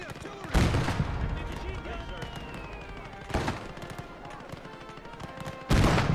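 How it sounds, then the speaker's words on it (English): Artillery fire in the Gates of Hell war game: three heavy broadband blasts land at intervals amid a constant din of battle noise and scattered gunfire, with no clear talk over them. "Enemy artillery!"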